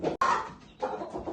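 A Ganoy breed hen clucks close by in short, soft bursts separated by brief pauses, with no one talking over it.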